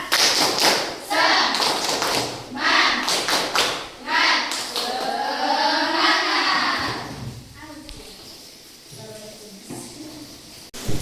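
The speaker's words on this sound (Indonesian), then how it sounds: "Ayo tepuk semangat dulu. Tepuk semangat." A classroom of students doing a rhythmic spirit clap, with bursts of patterned clapping and thumps alternating with children's chanted voices, loud and close, then settling into quieter speech.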